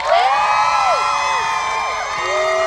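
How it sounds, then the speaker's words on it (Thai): An excited crowd at a drama premiere screams and cheers together in a sustained burst of high-pitched shrieks and whoops, loud and close, with individual voices rising and falling throughout. "กรี๊ดดังๆกันอีกสักครั้ง"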